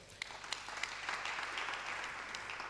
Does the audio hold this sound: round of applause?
yes